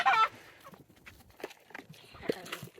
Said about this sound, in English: Those are some happy chickens.